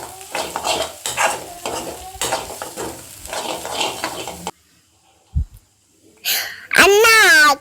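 Rice is stirred and mixed in a hot pan for green egg rice, giving several seconds of rhythmic scraping and sizzling, then near silence, a short thump, and a loud burst of other sound at the end.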